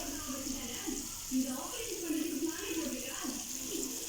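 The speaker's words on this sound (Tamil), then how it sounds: "இப்போ நல்லா பொரியட்டும் எண்ணெயிலேயே" Chicken pieces deep-frying in hot oil over a high flame as a restaurant-style chicken dish is cooked, giving a steady bubbling hiss with a voice talking over it throughout.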